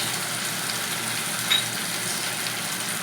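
Masala spices with onion, turmeric and Kashmiri chilli powder fry in a pan for a Bengali boal fish curry, giving a steady, even sizzle and hiss throughout, close up and without voices.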